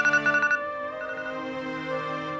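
A mobile phone rings with an incoming call in a domestic drama scene: a quick burst of pulsed electronic tones, then a steady melodic ringtone that carries on, fairly close and clear, with no talking over it.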